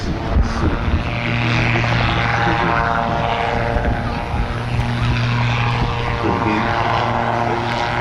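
Propeller aircraft flying a display at an air festival, a loud continuous engine drone that holds steady and shifts slightly in pitch as it passes.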